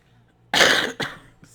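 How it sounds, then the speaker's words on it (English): A person gives a single close, loud cough followed by a shorter second cough, in a quiet room. "I got that little cough left."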